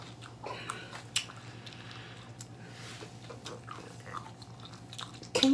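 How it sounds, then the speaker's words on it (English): Food chewed close up during a blindfolded tasting, soft wet squishy bites and crunches repeating irregularly over a quiet room hum, with a louder crunch near the end. "Can you stop doing that? Stop chewing like that."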